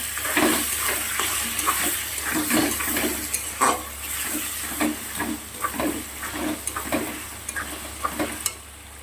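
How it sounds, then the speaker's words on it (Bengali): Cauliflower and potatoes frying hard in oil give a loud, continuous sizzle, broken by rhythmic scraping of a spatula stirring the pieces, close by and with no voices. "আর মসুরির ডালের সাথে এখানে দেখো ফুলকপি আলু ভাজবো, একটু লাল লাল করে বেশ কড়া করে ভাজবো।"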